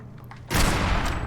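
A Select Marksman Rifle fires in the video game Fallout 4, a sudden loud burst of rapid gunfire after a quieter moment, sustained and dense to the end.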